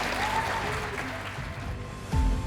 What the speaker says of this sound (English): Would you please give a great big round of applause to Mr.